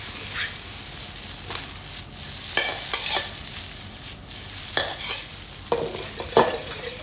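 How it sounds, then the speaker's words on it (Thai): Egg fried rice sizzles in a hot pan while a utensil scrapes and tosses it in intermittent strokes, close by, with no talking. "ผัดไปเรื่อยๆ ครับ ผัดให้ไข่กับข้าวเข้ากันดีนะครับ"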